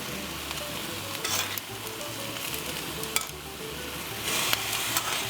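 Meat and sautéed vegetables sizzling in a dish on a Lacanche simmer plate, a dense continuous fry with intermittent stirring scrapes and a low steady hum underneath, close-up, no talk.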